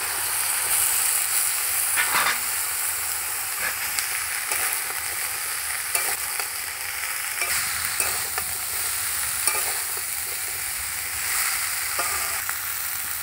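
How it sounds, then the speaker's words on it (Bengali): Taro stolons being stirred in a hot pan for a small-fish curry, with steady loud frying sizzle and hiss throughout, broken by scraping stir strokes; no one speaks. "এবার কচুরলতিটা দেব।"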